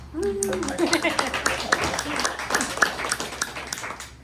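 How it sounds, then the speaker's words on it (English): A small, sparse patter of clapping from a couple of people after a poetry reading, close and brief, mixed with talking and light laughter. "mandatory applause from the wife on that one"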